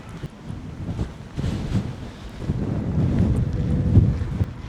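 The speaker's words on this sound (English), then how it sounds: "Such a strong wind today." Strong gusting wind buffets the microphone during a walk by a park in Killarney, Ireland, a loud, rumbling roar that surges and eases over a few seconds with no voices.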